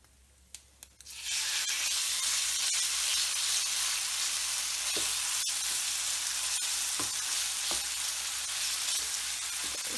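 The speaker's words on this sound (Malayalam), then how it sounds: "ചിക്കൻ നന്നായി ഇട്ടിട്ട് ഫ്രൈ ചെയ്തെടുക്കാം പാനിൽ" Marinated chicken for butter chicken hits a hot pan after a few light clicks and then sizzles loudly and steadily, with a dense, unbroken frying hiss.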